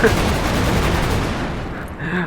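Explosion in the Roblox game Jailbird: a loud, dense blast of rumbling, crackling noise fills nearly the whole stretch and then thins out and fades toward the end.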